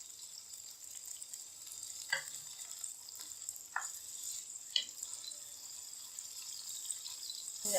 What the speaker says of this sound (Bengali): এখন এটাকে ভাজা ভাজা করে নিব।